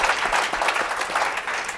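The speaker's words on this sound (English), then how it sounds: "A big round of applause for him." Audience applause for a panel guest at a conference session on sustainable development goals, a steady, dense wash of many hands clapping throughout, moderately loud and close.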